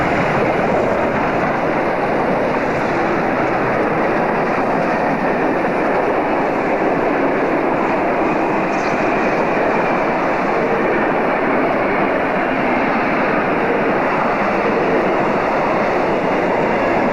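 SAR 621 steam locomotive and its train in 1994, heard as a steady, loud, continuous roar of running along the rails with a dense rumble. It sounds close and sustained throughout, with no voices.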